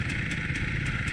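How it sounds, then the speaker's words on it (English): Two dirt bikes coming along an off-highway vehicle trail at Stonyford, a steady droning engine with a buzzing rattle, at moderate distance and fairly quiet, with no voices. "Got some bikes coming up, Pat, two of them."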